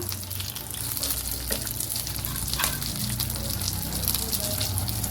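Fish fries under a lid in a pan, producing a loud, dense, continuous sizzle with a hissing spatter that stays steady throughout, with no voices.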